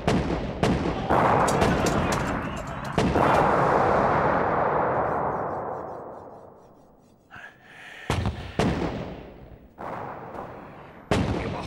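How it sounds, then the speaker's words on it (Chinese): Bombing explosions and artillery fire in a war action film as the Shaolin temple is shelled: loud repeated booming blasts and sharp cracks, with a long rolling rumble that fades before a fresh volley of close, heavy impacts. "给我炸，给我拼命的炸。"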